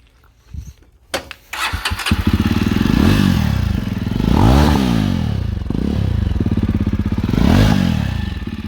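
A John Deere 5405 tractor engine cranks with a few clattering bursts, then catches and settles into a loud, close, throbbing idle with a rhythmic motorcycle-like rumble that swells and dips.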